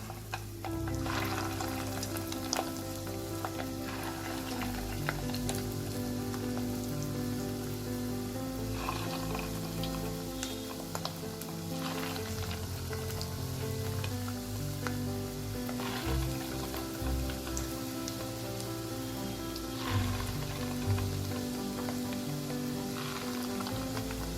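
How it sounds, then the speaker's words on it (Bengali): Fish roe fritters, Bengali fish egg pakora, frying in hot oil with a steady, loud sizzle throughout, continuous bubbling crackle and occasional sharper pops, with no talking. "এইভাবে আমি আরো সবগুলো ডিমগুলোকে ভেজে নেব।"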